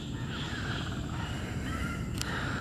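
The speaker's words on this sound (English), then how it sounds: "Oh, beautiful birds." Crows calling in an early-morning urban waterside setting in Singapore, a few harsh caws heard over a steady noisy ambience, moderately distant.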